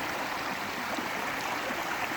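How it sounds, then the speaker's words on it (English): Creek water flows steadily along a walking path, a continuous broadband rushing and babbling that stays even throughout, fairly close and alone with no voices. "hearing that soothing water sound, letting all that good stuff sink in"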